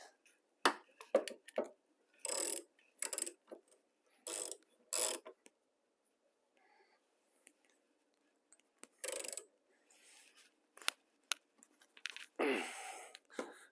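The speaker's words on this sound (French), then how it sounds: "Donc les deux autres, on peut les faire au cliquet." Ratchet wrench clicking while turning bolts during a water pump replacement on a Saab 9-3 B207 engine, with short bursts of rapid ratcheting separated by pauses, close and fairly clear against a quiet background.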